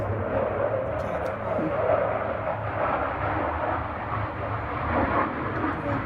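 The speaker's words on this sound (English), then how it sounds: "It's like the longest airplane ever. They like circling the house." An airplane passes overhead with a steady, broad roar that holds loud for several seconds, while people talk nearby.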